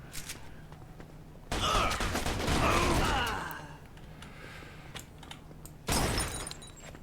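Gunfire and crashing in Mafia 2 erupt in two loud bursts of shots, the first sustained and breaking up, the second brief, with quieter clatter between.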